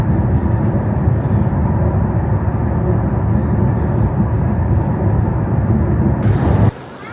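A passenger train runs through mountain tunnels in China: a steady, loud rumble and roar of the carriages that holds constant, then cuts off abruptly near the end.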